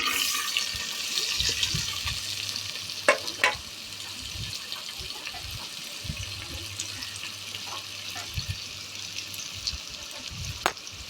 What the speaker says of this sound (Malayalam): കുറച്ച് വെളിച്ചെണ്ണ ഒഴിച്ച് കൊടുക്കണം എന്നിട്ട് സവാള അതിലോട്ട് ഇട്ട് കൊടുത്ത് വഴറ്റിയെടുക്കാം